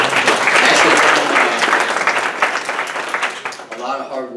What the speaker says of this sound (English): he deserves a pat on the back and a round of applause